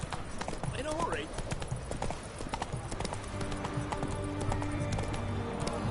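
Roach the horse's hooves clip-clop at a steady walking rhythm in The Witcher 3, moderately close, with a brief whinny and a voice speaking over the hoofbeats.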